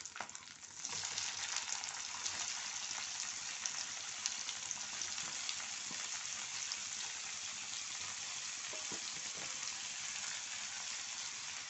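Two small chopped tomatoes dropped into hot oil in a frying pan for a mushroom gravy, a loud steady sizzle that starts abruptly and holds without a break, close and alone with no voices.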